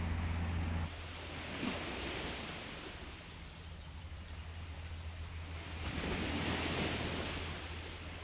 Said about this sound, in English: I know the wind's coming in from kind of where we are.